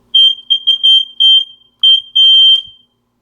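High, piercing smoke detector beeps come in quick irregular chirps and longer tones, loud and nearby, with no other sound.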